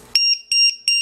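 HobbyKing low battery alarm beeping from a defective unit, three sharp, loud, high-pitched electronic beeps in quick succession, close up and with no voices.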